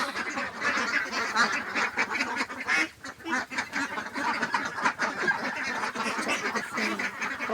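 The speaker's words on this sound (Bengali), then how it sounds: "এই যে হাঁস" A flock of farm ducks, about 360 birds in a netted enclosure, quacking and honking continuously in overlapping nearby calls.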